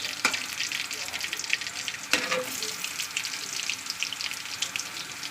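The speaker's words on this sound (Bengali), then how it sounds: "এবার এটা একটু লালি করে ভেজে নিয়ে" Onions frying in oil in a home kitchen, a steady close sizzle with a few sharp clatters from a utensil against the pan.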